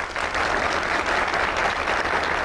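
Steady, dense studio audience applause at a television interview show, many hands clapping at close range without pause from start to finish.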